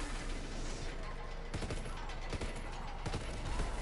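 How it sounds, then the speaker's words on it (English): A whole squad's gunfire in a video game, a dense fusillade of shots rattling continuously, with a few sharper bursts standing out near the middle and end. "And the whole squad shooting at them."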